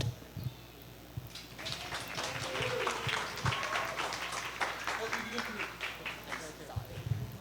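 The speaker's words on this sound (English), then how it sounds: "Once again, ladies and gentlemen, give them a big round of applause." Wedding guests applaud the couple at a reception, a steady wash of clapping from a crowd that swells and holds for several seconds, fairly distant, with a voice speaking over it.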